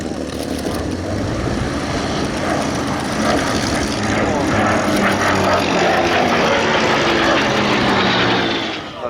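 A Second World War propeller fighter with an Allison engine flies past at an air display, a loud, steady droning roar that swells and fades, with the sound of the passing aircraft shifting throughout.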